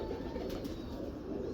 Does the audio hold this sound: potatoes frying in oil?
no